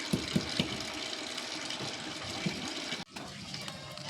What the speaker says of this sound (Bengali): এখন জলজিরা ছাড়া হচ্ছে